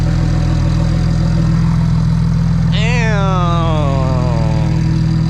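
A single-turbo 335 car engine idles loud and steady after its first start, a constant low drone with a brief wavering, rising-and-falling whine over it partway through.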